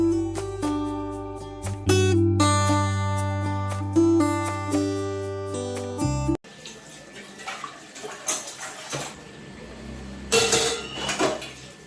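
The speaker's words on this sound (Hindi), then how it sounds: "फिर मैंने घर पे आके सबसे पहले बर्तन वॉश किए" Dishes, pots and pans being washed at a home kitchen sink, with running tap water splashing and clattering in the second half after a stretch of music, fairly close and moderately loud.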